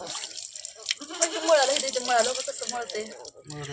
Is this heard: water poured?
yes